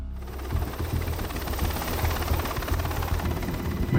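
A helicopter flying near the border, its steady rotor thump and engine drone continuous and fairly close throughout.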